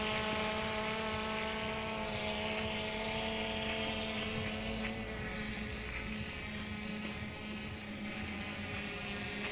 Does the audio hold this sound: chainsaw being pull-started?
no